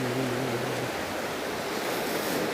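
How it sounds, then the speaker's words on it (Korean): Ocean surf washing onto the rocky shore at Yongwangdan in Busan, a steady broadband roar of waves with no clear breaks, loud and near, lightly buffeted by wind. "오직 파도 소리로만 가득한 용왕단"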